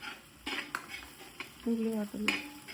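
Onions sautéing in a pan in a home kitchen, a soft sizzle broken by a few scrapes and knocks of a utensil on the pan, with some brief tonal sounds in the background.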